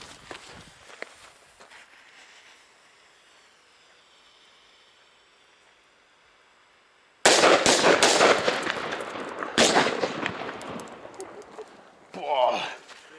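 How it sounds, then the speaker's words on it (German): A King brand firecracker chain set off on New Year's Eve, erupting after a quiet stretch into several seconds of loud, rapid crackling bangs that tail off into scattered pops. "So, Knallkette von The King."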